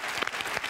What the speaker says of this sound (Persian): تشویق کنین جانانه